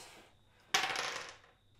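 Two dice hit a tabletop with a sharp clatter during an Undaunted Normandy board game, rattling briefly and then fading out into quiet.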